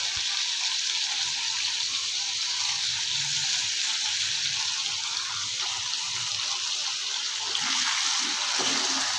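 Potatoes browning in hot oil with whole cumin seeds give a steady, close sizzle that runs unbroken throughout, with a few louder spits and crackles near the end and no talking over it.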